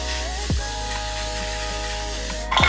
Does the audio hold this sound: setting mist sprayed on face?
yes